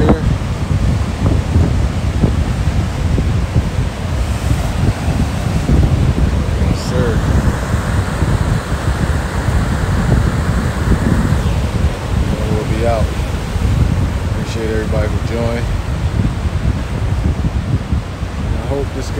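Ocean surf rolls in steadily on a beach near Manhattan Beach and Hermosa, with wind buffeting the microphone throughout, a continuous loud wash of waves and gusts with a few faint voices in the background.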